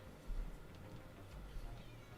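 A house cat meows softly a few times indoors, faint and brief against low room noise.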